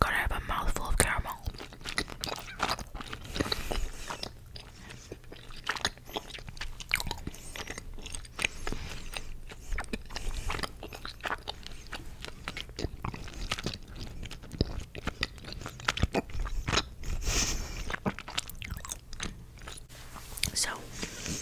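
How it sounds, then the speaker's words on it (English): A mouthful of caramel is chewed right up close, with continuous sticky, wet chewing and biting sounds. Whispered talk runs between and over the chewing. "I have a mouthful of caramel."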